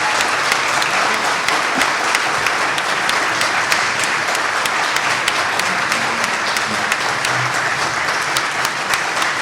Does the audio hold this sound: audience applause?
yes